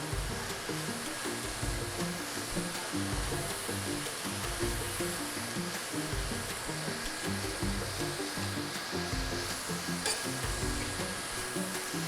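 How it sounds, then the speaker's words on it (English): Jerk cabbage with mixed vegetables sizzles in a pan, a continuous, even, fairly soft hiss of frying that holds steady for the whole stretch with no talking. "I'm throwing some of my veggies out the pan. Stir it up. And we just allow this to cook down."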